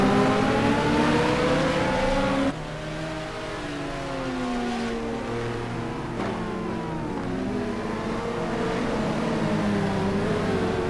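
Lamborghini and McLaren GT cars in a sim racing endurance race at Spa, engines droning and revving in overlapping sweeps, loud and continuous, with a sharp drop in level as the view changes.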